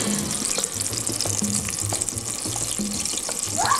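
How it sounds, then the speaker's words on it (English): Steady crackling sizzle of battered chili peppers frying in hot oil, continuous and close, with faint stirring clinks throughout. "Get some frying chili."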